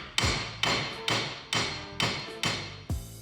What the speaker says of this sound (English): Sometimes it takes a bigger hammer than what I'm about to use